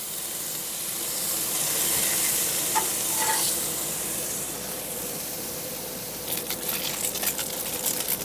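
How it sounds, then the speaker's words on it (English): Bacon sizzles and fries on a Blackstone griddle outdoors in hot weather, a steady broadband hiss with a few scraping, tapping sounds near the end as the strips are broken up. "once I get this cooked up, I'll break this bacon up a little bit over here"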